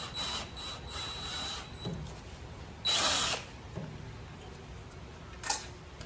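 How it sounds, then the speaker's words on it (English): Cordless power drill backing out a long Phillips carburetor screw on an Ariens 824 snowblower, heard as a few short whirring bursts with one louder burst in the middle, close by with no talk. "to access this with my drill, I have to have the chute moved so that way I can get a straight shot to take the screw out"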